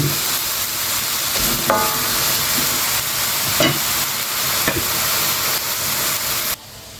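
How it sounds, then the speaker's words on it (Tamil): Chillies sautéing in a pan for mee goreng, a loud continuous sizzle and hiss with occasional sharp stirring scrapes, close up, dropping away near the end. "இப்போ இந்த மிளகா வந்து வதங்கணும் நல்லா வாட போக வதங்கி வரணும்"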